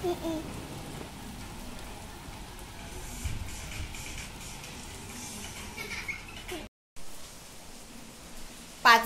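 Heavy evening rain pours down in a steady, dense hiss of drops on surfaces, fairly faint and continuous, with one brief cut near the end.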